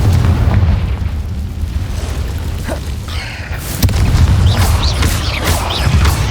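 A Confringo blasting spell in the Hogwarts Legacy video game, cast inside a cave, goes off in loud, booming explosive bursts over a heavy low rumble, with sharp crackling hits and whooshing spell effects layered on top.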